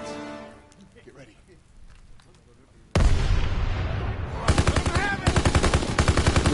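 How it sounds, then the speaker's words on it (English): A BAR rifle fires in long rapid bursts in a World War II video game, loud and close, beginning abruptly after a quieter stretch and continuing with rhythmic shots and battle noise. "the BAR has some decent recoil"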